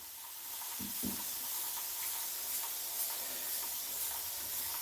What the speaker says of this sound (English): And Tikal, he just loves that spray. You can see the water's just landing on him